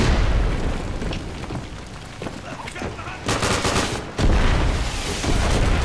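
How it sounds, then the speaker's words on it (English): Gunfire crackles in the World War II shooter Day of Infamy, with rapid bursts and heavy booming shots close by, the firing dense and loud, and a brief spoken voice mixed in. "Oh shit, I shot a teammate"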